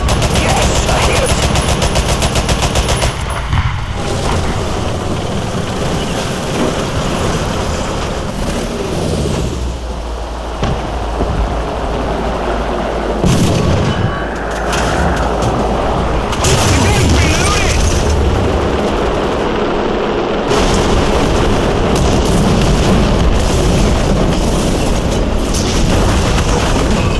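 Tank cannon shots and explosions in an arcade tank battle on the Kuban map in War Thunder, with loud, dense, continuous gunfire and booms throughout, and voices talking over the combat.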